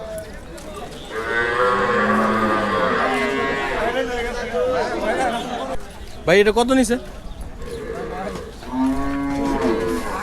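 Cattle at a Qurbani cow market in Hozrotpur low mooing and bellowing close by, several long calls that overlap with people talking and chattering nearby.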